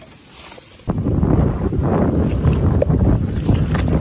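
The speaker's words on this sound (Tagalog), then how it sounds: "Lakas ng hangin" Strong wind buffets a small fishing boat on Ligawasan Marsh in the Philippines, a loud, steady roar of microphone wind noise that starts abruptly after a quieter opening, with no talk.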